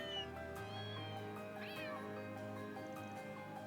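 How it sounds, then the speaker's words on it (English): Cute kitten meows triggered by clicking a kitten icon on a video game website, several clear mewing calls over a steady background music bed, with no talking. "It plays a collection of cute cat sounds that record in the capital."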